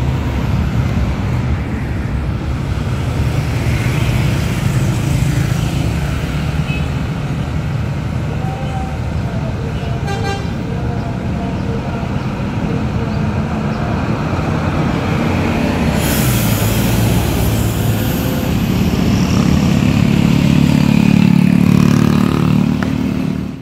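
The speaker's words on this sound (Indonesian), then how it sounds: "Dari arah Padang masuk satu unit lagi bus Sembodo, sepertinya dengan unit sweet kombinya." A Sembodo bus, a suite combi unit coming from Padang, pulls into a busy roadside rest area in West Sumatra, its engine rumble steady and growing louder and closer toward the end, with other traffic around.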